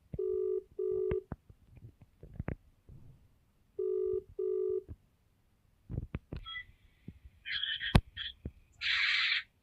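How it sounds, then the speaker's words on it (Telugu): An outgoing phone call rings on the line with two pairs of double-pulse ringback tones separated by quiet gaps. Scattered clicks follow, then several brighter electronic tone bursts near the end. "రింగ్ అవుతుంది."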